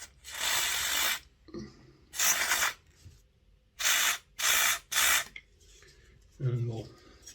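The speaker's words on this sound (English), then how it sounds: "We'll scoosh out these axle shafts." Aerosol cleaner sprayed in five short, loud bursts onto the axle shafts of a Hornby Black 5 model locomotive during servicing, close up, separated by pauses with faint handling sounds and a brief low murmur near the end.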